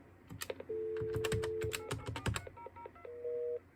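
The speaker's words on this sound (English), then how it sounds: "ignore the fact that I'm dialing *70" Touch-tone dialing on a telephone connected to a custom TDM switch built with Dialogic voice boards: a quick run of short, clipped key tones followed by a few longer steady tones, fairly quiet and with no voices.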